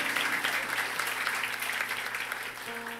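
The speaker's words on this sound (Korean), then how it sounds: "우리 박수로 한번 감사해 주셔요." A congregation at a Korean Sunday church service claps together after a prayer, giving a full, even burst of applause that holds for about three seconds, with a faint tone entering at the end.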